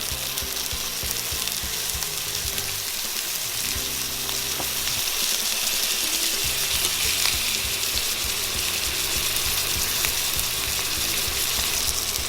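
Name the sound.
rack of lamb frying in butter in pan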